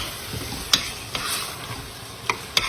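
Spoon stirring crushed tomatoes into brisket chili in a pot, a few sharp scraping clicks against the pot over a soft steady simmer, close and fairly quiet.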